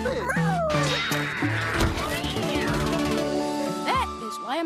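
A cat meows and caterwauls several times in a cartoon commercial, loud and close against music and a voice talking.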